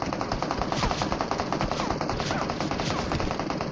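Rapid automatic gunfire in a video game rattles in a steady, loud burst that runs continuously through the whole moment.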